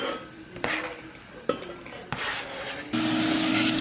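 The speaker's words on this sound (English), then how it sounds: "I'm just going to put my chopped onions in there, and then we'll get to these sauteing" Chopped onions tip into a saucepan of olive oil with a sharp clatter, then a steady rising sizzle and scraping of pan and utensil builds and holds loud to the end.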